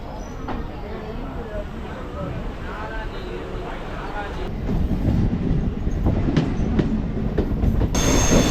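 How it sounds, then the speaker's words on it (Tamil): A MEMU passenger train from Chennai Beach to Tiruvannamalai rolls along the rails with a low rumble and rhythmic clatter that grows louder partway through, with faint voices underneath. "இப்போது ஆறு மணிக்கு இந்த பி ஸ்டேஷன்லேருந்து ட்ரெயின் ஸ்டார்ட் ஆகிடுச்சு"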